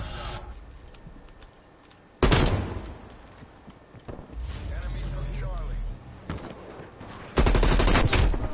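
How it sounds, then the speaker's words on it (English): Hip-fire gunshots in Call of Duty Black Ops Cold War, loud bursts of automatic fire separated by quieter gaps, with a final sustained burst, close and punchy over the game's ambient sound. "My hip fire at that range should have fucking hit him."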